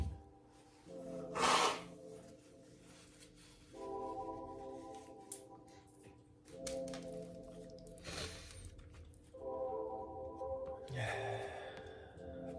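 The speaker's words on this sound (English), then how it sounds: "Excuse me while I blow my nose." Several rough, breathy blasts of nose blowing, separated by pauses and soft rustling, close to the listener.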